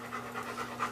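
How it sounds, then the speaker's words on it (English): A dog pants quickly and steadily in a room at a knife maker's workshop, rhythmic breaths repeating about four times per second, faint and close with no talk. "That's my dog."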